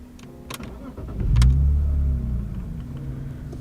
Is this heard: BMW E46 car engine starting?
yes